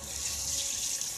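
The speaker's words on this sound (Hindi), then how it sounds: "और हम डाल देते हैं इसमें कढ़ाई में।" Sliced potatoes go into hot oil in a kadhai for frying, giving a steady, close, hissing sizzle that runs unbroken with no voices.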